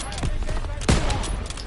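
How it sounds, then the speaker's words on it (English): A burst of gunfire rings out in a World War II video game: a couple of sharp, loud shots, the strongest near the middle, over continuous background game noise. "Keep on shooting, mate."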